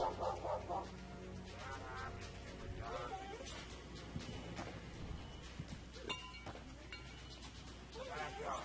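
Dog barking in the Skunk Hole video game: short yapping barks come and go under continuous talk, mixed with faint clinks and other game sounds.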